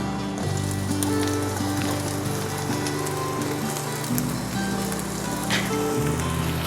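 Chopped onion and minced garlic hit a hot pan for Filipino pancit canton, a steady loud sizzle like rain on a surface, continuous and close with background music underneath and no talk.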